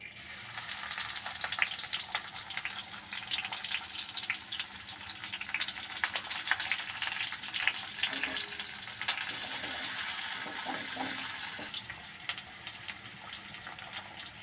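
Onions dropped into hot oil fry with a loud, steady hiss and crackle for a dish of eggs cooked with cham grass, the sizzle continuing throughout and easing slightly toward the end.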